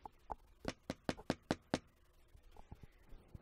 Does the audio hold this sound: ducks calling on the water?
no